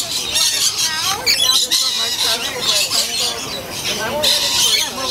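Lorikeets squawk and screech continuously at Brevard Zoo as they are fed from cups, a dense, loud chorus of shrill, close calls filling the scene, with people's voices mixed in.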